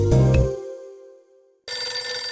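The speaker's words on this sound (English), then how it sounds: "Ah, phone ringing." A telephone rings in the 1979-set video game Hotel Dusk, a loud electronic ring that fades out, breaks into brief silence, then starts again, with no voices.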